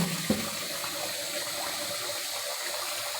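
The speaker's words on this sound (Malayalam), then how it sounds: "ഞാൻ ഒരു 4 പ്രാവശ്യത്തോളം അരി കഴുകും കേട്ടോ" Rice being washed in water in a home kitchen before making rice gruel, with a soft splash at the start followed by steady trickling and sloshing water, close and alone without speech.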